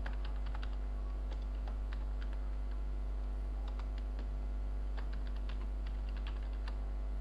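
Typing on a computer keyboard while entering form data: a steady run of light, quick key clicks in irregular bursts with short pauses, close and fairly quiet over a low electrical hum.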